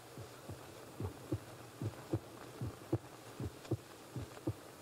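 A slow, steady heartbeat thumps in paired low beats roughly every 0.8 seconds, a dramatic sound effect for a radio crime drama about a condemned man at the gallows, over a faint hum with no voices.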